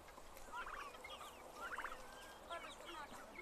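Several bursts of gobbling from a flock of about 15 turkeys at moderate distance, with a few rapid warbling calls spaced over a few seconds against a quiet outdoor background.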